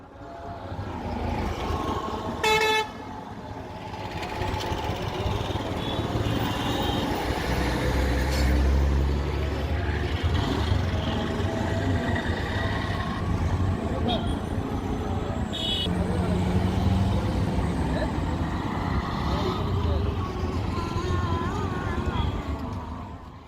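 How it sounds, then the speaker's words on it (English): Busy traffic on Chandnagat Bridge in Moulvibazar, Bangladesh: a dense, continuous rumble of trucks, cars and buses with passing engines, a brief horn-like burst early, and voices of people talking throughout. "This is Moulvi Bazar's busiest bridge, with non-stop traffic and people,"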